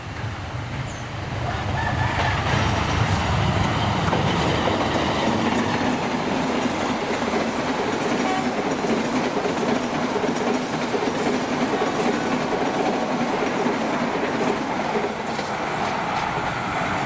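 The locomotive of the Brantas train stands at Pasar Senen station, giving a steady, loud diesel rumble. The broad noise holds constant for the whole stretch with no talk over it.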